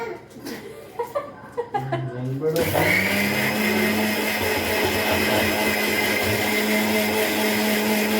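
A mixer grinder whirs loudly and steadily, blending spicy green chillies into a smooth paste; a few short knocks and a voice come first, then the motor starts abruptly and runs continuously to the end.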